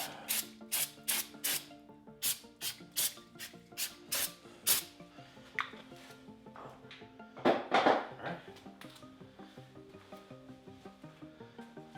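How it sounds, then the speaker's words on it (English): Brake cleaner sprayed onto new brake rotors in a run of short, sharp aerosol bursts, about a dozen quick hisses in a row, then a longer spray and scattered faint clinks. "What do you say we spray that down one more time just for good measure?"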